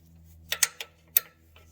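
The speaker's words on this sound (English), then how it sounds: "I'm going to use an open-ended wrench to loosen those up" An open-ended wrench works loose the bolts on a Toyota Tundra secondary air valve, driver's side, giving four sharp, close metallic clicks spaced unevenly over a faint low hum.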